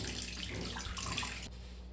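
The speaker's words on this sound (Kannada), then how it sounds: "ಎಲ್ಲ ಫಿಶನ್ನು ಹಿಂಗೆ ಕ್ಲೀನ್ ಮಾಡ್ಕೋಬೇಕು ನೀಟಾಗಿ" Running water from a tap splashes steadily over fresh fish being rinsed clean in a village cooking setting, a continuous close wash that thins out near the end.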